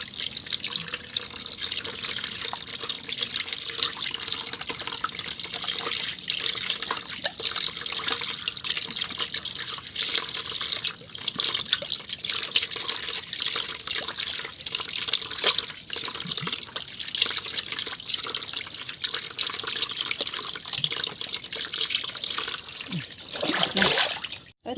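Seashells being rinsed under running water in a kitchen sink after a salt scrub, a steady close hiss of tap flow with splashing and trickling, continuous and loud for the whole stretch without talk.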